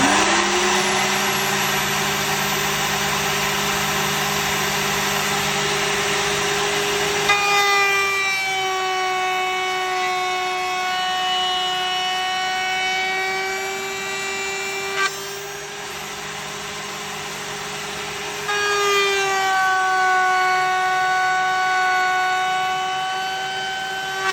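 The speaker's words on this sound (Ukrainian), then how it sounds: "Вмикаємо фрезер." A loud, high electric router whines steadily, its pitch dropping and rising as it bites into beehive wood, with two brief pauses between passes.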